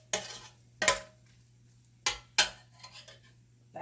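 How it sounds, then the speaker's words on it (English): Carrot cake jam mixture is stirred in a pot, giving a few sharp scraping and clinking strokes of a utensil against the pot, fairly faint and separated by short quiet gaps. "And mix it in there real well."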